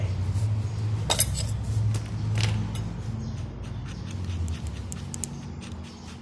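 A No. 17 combination wrench loosens the filter on the carburetor of a Honda Wave 125 motorcycle, making a few light metallic clinks and taps over a low background hum.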